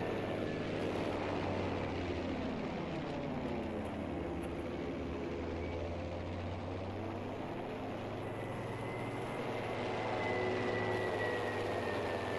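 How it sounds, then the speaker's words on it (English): Propeller aircraft engine in the video game Battlefield 5, a continuous loud droning roar that holds steady throughout and slowly shifts in pitch as the plane passes, with no talking. "Plane."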